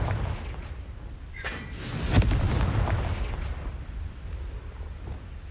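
A Confringo fire spell is cast in the video game Hogwarts Legacy. One deep blast booms near the middle over a low, rumbling game background.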